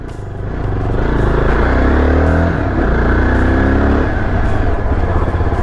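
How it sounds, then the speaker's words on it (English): A Yezdi Adventure motorcycle on a fast run gives a loud, close exhaust note that rises as the throttle opens, holds a strong, rough drone with shifting pitch, then eases slightly near the end, with no talking. "You should go through the exhaust note. The exhaust note is also good."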